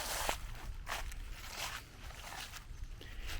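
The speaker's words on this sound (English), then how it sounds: "I love the sound of leaves underneath my feet." Footsteps crunch through fallen autumn leaves on a woodland trail near a creek in Tennessee, giving a close, steady series of dry rustling steps about every half second.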